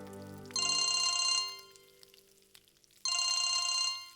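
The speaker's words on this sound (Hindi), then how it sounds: "वीरेन जी का फोन है।" A phone rings indoors in a Hindi household drama scene, two bursts of an electronic ringtone with a pause between them, clear and fairly near, with no talk over it.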